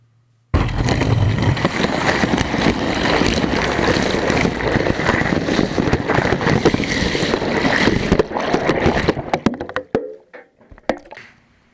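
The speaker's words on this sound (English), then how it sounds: "Let's add water." Water rushes steadily into a brewing mash tun of milled grain for about nine seconds, loud and close, then tapers off into a few splashes and drips.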